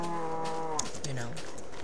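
A cow moos in a Minecraft-style video game, one drawn-out, wavering low call that dips and bends toward the end, fairly close and clear with no talking over it.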